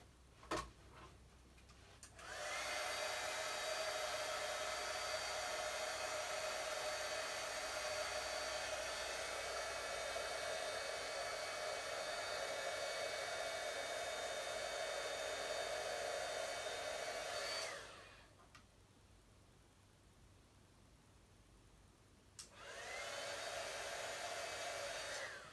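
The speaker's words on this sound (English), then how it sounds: "I have my heat tool on the other side of the room" An embossing heat gun blows with a steady, loud whirring hiss for about fifteen seconds, cuts off, then starts again briefly; no voices.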